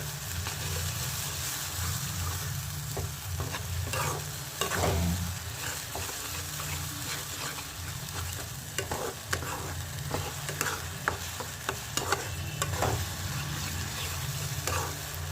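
Spice paste for a Rupchanda pomfret fish curry sizzles in a pan while a spoon stirs it, giving a constant close hiss with scraping strokes and occasional louder clicks of the utensil against the pan.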